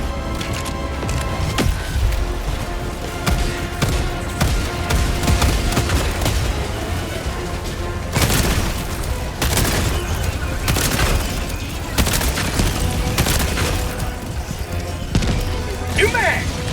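Helldivers 2 combat on an Automaton planet: loud booming bomb explosions and bursts of rapid gunfire crackle in close, repeated volleys, with voice callouts mixed in among the blasts.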